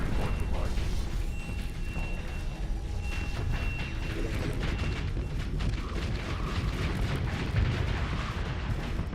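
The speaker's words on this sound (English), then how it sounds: "Must be the power of the singularity cannons." Dense, continuous rumbling barrage of singularity cannons and explosions in a space battle in the video game StarSector, loud and unbroken throughout with a few faint tonal whines layered over the booming.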